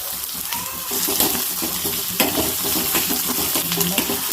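Onions dropped into hot tempering oil for tomato dal sizzle and crackle steadily and loudly up close, with repeated stirring scrapes and a little running water.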